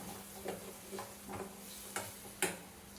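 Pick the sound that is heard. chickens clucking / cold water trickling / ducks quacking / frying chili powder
frying chili powder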